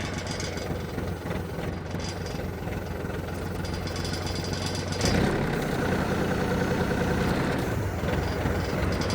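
The engine of a Yanmar AF222 tractor runs at a steady, close idle with a rumbling chug that grows slightly louder and fuller about halfway through.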